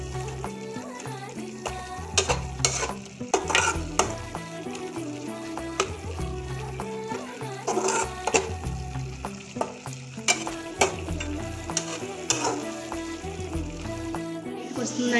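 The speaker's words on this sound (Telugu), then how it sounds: "అన్నీ వేసుకున్నాక బాగా కలుపుకొని మొత్తం పచ్చివాసన మొత్తం పోయేంత వరకు కూడా వేయించుకోవాలి." Chilli spice mix for an Andhra-style fish curry frying and being stirred in a pan: a steady close sizzle broken by repeated sharp spatula scrapes and knocks throughout.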